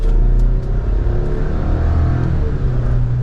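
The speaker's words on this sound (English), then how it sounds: "We're up to speed, and the engine doesn't feel like it's struggling to get up and move." A steady turbocharged four-cylinder engine drone and low rumble with road noise, heard from inside a 2023 Chevrolet Colorado Z71 pickup moving at speed, fairly loud and continuous.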